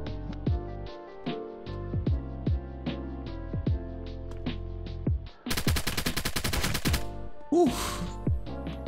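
Video game gunfight in Apocalypse Rising 2 on Roblox: steady, evenly spaced gunshots crack one after another, then a dense burst of rapid automatic fire, followed by a few more shots, loud and close.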